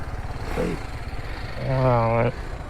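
A motorcycle idles with a low, steady, pulsing engine rumble as it is brought to a stop and parked near a temple entrance. A voice talks over it.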